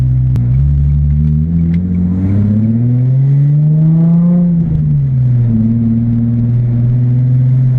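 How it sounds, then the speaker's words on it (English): A loud Japspeed K1 exhaust on a Nissan 350Z rumbles deeply while driving at about 20 mph, its engine pitch rising and falling as the car moves slowly, no voices. "it's got to be the noisiest 20 mile an hour car I've ever been in"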